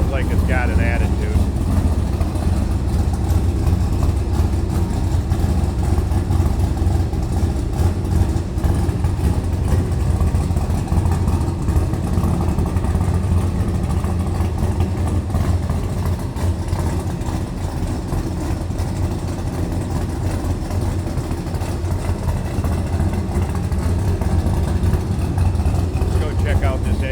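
A built 1967 Chevrolet Chevelle restomod with a 572 cubic inch V8 idles steadily at close range, a deep continuous rumble that holds level throughout without revving.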